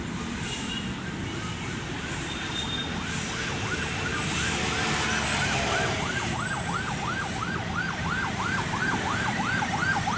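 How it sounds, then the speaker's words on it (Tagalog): A wailing emergency vehicle siren by Manila Bay cycles up and down repeatedly over steady background rumble, growing more prominent toward the end, at moderate distance. "Yan, may wangwang."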